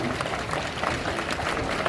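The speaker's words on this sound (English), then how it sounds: "So a big round of applause there for him." An audience at a Dreamworld tiger show applauds in a steady wash of clapping that holds at moderate level throughout the short stretch.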